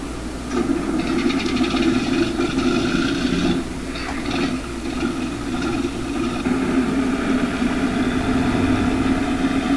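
A farm tractor engine idles steadily in a field, a low, even mechanical rumble with a faint rattling texture, close by and loud, briefly dipping around the middle before settling back to the same drone.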